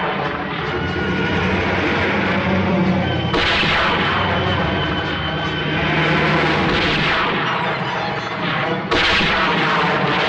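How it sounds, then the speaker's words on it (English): Heavy gunfire in an action scene, a continuous dense roar of shots and blasts with sharper bursts breaking through, loud and close throughout. "I'll try a couple of shots."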